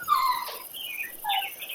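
A dog whimpers and whines in a few high, wavering cries, fairly close and alone with no talk.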